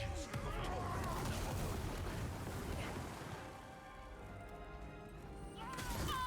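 Explosions in the Lords of the Fallen video game: a dense, continuous wash of crashing blasts and rumbling impacts, loud and near, dipping briefly before swelling again, with faint voices in the mix.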